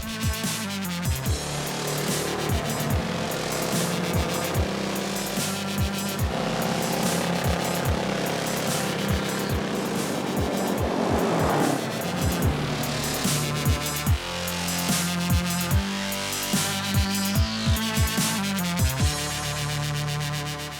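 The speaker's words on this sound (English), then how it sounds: "This vehicle boasts the ProStar 900, a 60 horsepower EFI engine." A Polaris ACE with a ProStar 900 60 horsepower EFI engine is driven outdoors. A continuous close engine rattles and buzzes with repeated sharp mechanical knocks and surges, and no voices.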